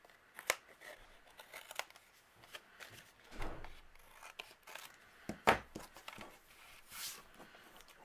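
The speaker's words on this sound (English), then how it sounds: "I'm going to go ahead and trim off the overhanging area" Scissors snip away the overhanging edges of paper tags on a handmade birthday card, giving soft, close, scattered cuts and paper rustles at a low level.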